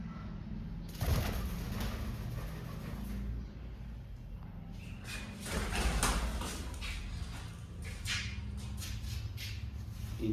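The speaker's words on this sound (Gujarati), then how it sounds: "અને કબૂતર બી ઉડી જો" Pigeons coo softly at a temple under construction, with faint wing flutters and light clatter in a quiet, somewhat distant setting, no talking.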